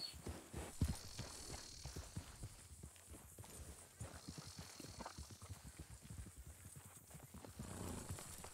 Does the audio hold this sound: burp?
no